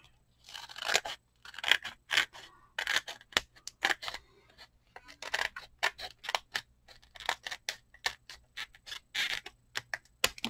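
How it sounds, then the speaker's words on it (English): Scissors trimming excess card paper at the back of a handmade shadowbox card, a rapid run of crisp, close snipping and crunching cuts in uneven bursts, with no one speaking. "I just trim the excess at the back."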